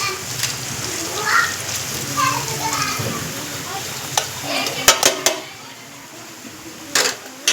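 A spoon stirs a hot tempering mixture in a pan for dhokla made with phag leaves, giving a soft continuous scraping sizzle with a few sharp clicks of metal. A person talks over it.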